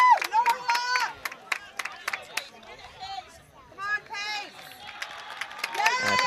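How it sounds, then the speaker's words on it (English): Crowd of fans cheering and shouting at a high school varsity boys soccer game, Darien versus Norwalk, in scattered bursts rising and falling beneath a commentator's voice. "You can hear the fans cheering for that one."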